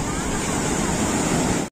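Sea waves washing in at Thotlakonda beach near Vizag, a steady broadband roar of surf mixed with wind buffeting the microphone, loud and continuous for the short stretch, with no clear talk over it.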